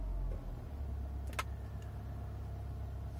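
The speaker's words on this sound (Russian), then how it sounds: "Заводим машину." An Audi A6 C6 facelift idles with a steady low engine hum, a brief whine and click from the starter near the start, then settles into an even, close running rumble with no talk.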